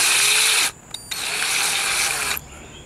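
A power drill whirs in short bursts while a bit is set and adjusted in its chuck for a Jeep Wrangler YJ repair, with a high steady whine broken by brief pauses and clicks.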